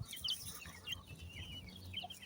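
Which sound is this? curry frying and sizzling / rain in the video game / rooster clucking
rooster clucking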